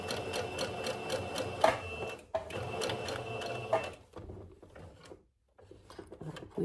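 Sewing machine stitching a seam of fabric up to the last pin, needle hammering in a fast steady run for about four seconds, then stopping, followed by quieter handling noises and shifting of the fabric.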